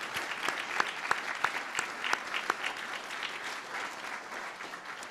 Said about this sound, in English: Let's give them a round of applause of appreciation